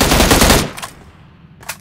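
Rapid gunfire from PUBG Mobile, set on the Miramar map, with dense automatic bursts loud for the first half second before dropping away, followed by a brief quieter shot near the end.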